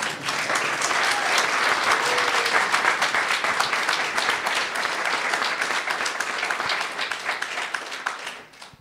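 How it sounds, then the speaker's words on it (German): An audience at a youth hackathon in Linz claps for a helper named Leo, a dense, continuous round of applause that stays loud and even for about eight seconds before tapering off quickly at the end. "möchte ich jetzt nur einen ganz großen Applaus für den Leo bitten"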